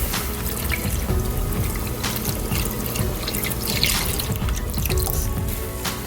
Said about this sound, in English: Now I'm going to add in my heavy whipping cream.